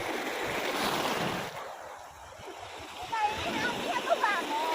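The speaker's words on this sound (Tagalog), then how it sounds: "Lumalaki na yung alon." Ocean surf washes and rushes nearby, swelling and easing as the waves grow, with wind noise, scattered splashes and people talking and calling out over the water.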